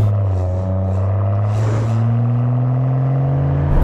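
Rolls Royce Ghost Black Badge with a 6.75-litre twin-turbo V12 and automatic gearbox, a smooth, loud, steady engine hum with rising tonal pitch as it pulls, heard alone without talk.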